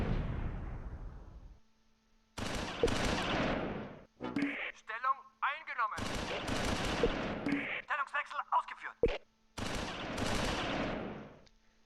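Bursts of heavy machine gun fire from an HMG half-track in Close Combat IV rattle in several loud, long volleys separated by short pauses, with brief radio-style voice chatter between them.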